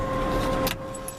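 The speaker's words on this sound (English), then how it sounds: "the blower motor works." Heater blower motor running inside a 1977 Ford F250 pickup cab, a steady low whirring hum with a faint tonal whine and a brief rattle near the end.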